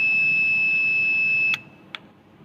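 A steady electronic buzzer tone from a simple LED and relay switching circuit sounds loud and continuous for about a second and a half, then cuts off abruptly, followed by one short faint beep.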